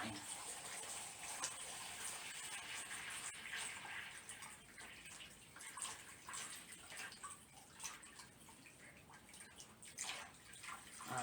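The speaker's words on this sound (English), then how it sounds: "you're going to fill up your basin with water to the field line" Water runs steadily into a hydroponic basin, a continuous close gushing and splashing with scattered drips, as a faint voice speaks now and then underneath.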